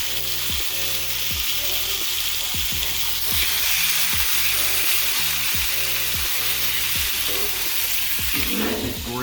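Ribeye steaks sizzle loudly on a grill at the highest heat, a steady close crackle and hiss with repeated short scraping clicks as the meat is moved and turned.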